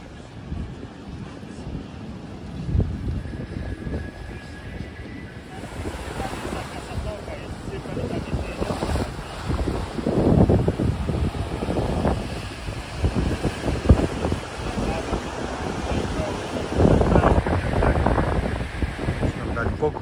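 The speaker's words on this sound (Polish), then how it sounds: "Ocean spokojny." Wind rushes across a calm open ocean, gusting steadily against the microphone, with a broad continuous roar swelling in places and soft water wash beneath.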